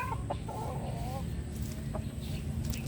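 Asil and Nitra Blue chickens cluck in a farmyard, with a few soft, short calls early on over a steady low background rumble.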